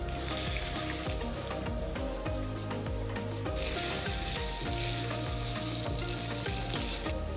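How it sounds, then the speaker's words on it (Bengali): Cumin seeds and green chilies hitting hot leftover fish-frying oil for a Bengali shing fish and bottle gourd curry, a loud continuous close sizzle with crackling pops and spoon scraping throughout. "এখন আমি মাছ ভাজার যে তেলটা আছে সেই তেলের ভিতর ফোড়ন দিয়ে দেব, জিরে ফোড়ন দিয়ে দেব 3টে কাঁচা ঝাল"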